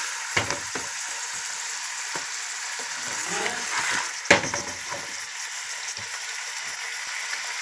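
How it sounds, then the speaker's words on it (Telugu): Fish pieces frying in a pan for a fish curry, a steady broadband sizzle with a few sharp clicks and stirring knocks, moderately close and without talk. "కాసేపు కొద్దిగా ఫ్రై కానిద్దాం"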